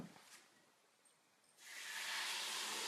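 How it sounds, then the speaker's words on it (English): Raw shrimp hits a hot pan, breaking into a loud, steady sizzle that holds to the end after a quieter stretch of faint background hiss. "Just gonna pop the shrimp in our pan here."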